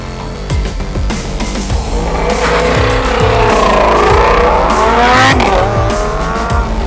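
Race cars, a Lamborghini Huracan and a Mercedes AMG GTS, roar along a track, engines rising and falling in pitch as they pass close by, loud and sustained with a tire squeal.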